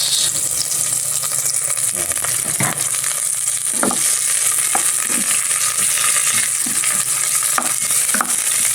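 Onion frying in a hot pan, a steady loud sizzle running throughout with scattered scraping taps of a spoon or spatula stirring it.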